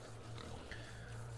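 Pigs in The Outer Worlds video game grunt and oink quietly against a steady low hum. The snorts are faint and distant and last only a moment.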